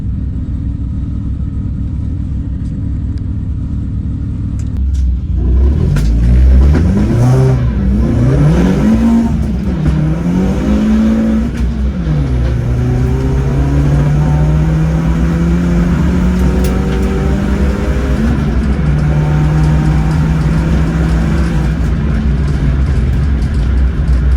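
A race car engine at Crail Raceway revs hard, climbing and dropping in pitch several times, then settles into a steady, loud drone.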